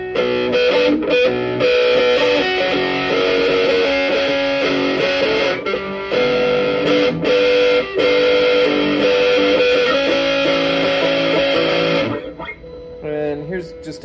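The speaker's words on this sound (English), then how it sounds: "here's the distorter, which is kind of fuzz, kind of distortion" Electric guitar played through a BoredBrain Distorter pedal, a fuzz-like distortion, giving a thick, saturated, loud tone that sustains steadily for about twelve seconds before cutting off, followed by a few quieter notes.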